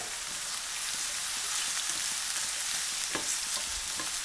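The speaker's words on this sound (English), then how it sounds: "So in goes 1 red pepper finely diced into about 1 centimeter cubes. Saute that" Diced red pepper and sliced black olives sizzle and fry steadily in a hot pan, a dense continuous crackle with occasional louder pops and stirring, with no voices.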